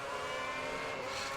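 An F1 race car engine revving hard in F1 2010, a dense, steady high-pitched whine held at full throttle, close and loud throughout.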